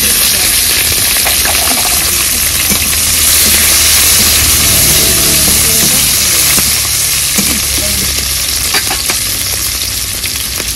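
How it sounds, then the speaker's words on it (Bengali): Slit green chillies dropped into hot oil for tempering with radhuni seeds, a loud steady close sizzle and crackle running throughout with no voice. "ফোড়নের ওপরে দিয়ে দেবো চেরা কাঁচা লঙ্কা"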